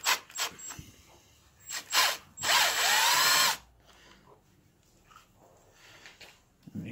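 A power drill backs out the bolts holding the fender on a Quantum Q6 Edge mobility scooter, with short whirring bursts and then one longer, rising high-pitched spin up close, followed by quieter handling noises.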